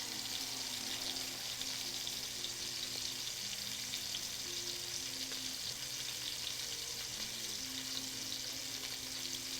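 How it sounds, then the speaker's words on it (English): A steady, even sizzle of onions frying in fat in a pan runs without a break, faint and continuous with a low hum underneath. "I love this sizzle sound."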